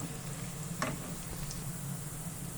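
Garlic and chana dal frying in hot oil in a pan for spinach sabji, a steady soft sizzle throughout with a couple of faint stirring scrapes, close and fairly quiet with no talking.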